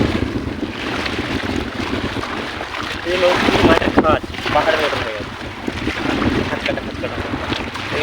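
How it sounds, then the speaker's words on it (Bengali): River waves slap and churn against a boat hull in the Sundarbans mangrove forest amid steady wind noise, with a brief voice speaking over the rough, continuous wash. "নদীতে প্রচুর ঢেউ হচ্ছে"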